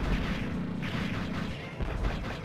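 Enemy guns fire in Mega Man 64, a dense stream of booming, crackling blasts with no pause and no talk.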